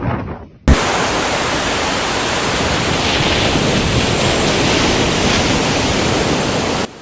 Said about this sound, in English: The waves gradually increased in size as the strong winds pushed massive volumes of water